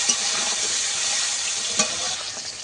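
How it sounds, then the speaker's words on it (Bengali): Paneer pieces fry in a pan with a continuous bright sizzle and spatter, steady and close, plus a couple of sharp pops and a faint scrape of stirring, with no talk. "কলিগুলোকে ভালো করে ভেজে নিতে হবে"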